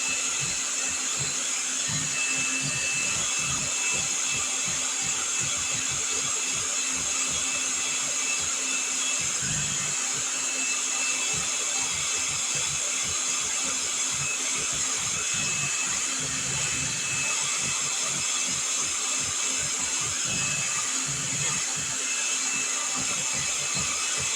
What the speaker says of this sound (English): We're going to mix this on medium for just a couple of minutes.